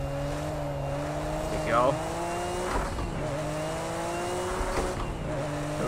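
A Nissan GT-R race car in Project Cars 2, heard from the cockpit view, gives a steady engine drone that rises and falls as it shifts, with a brief spoken remark partway through.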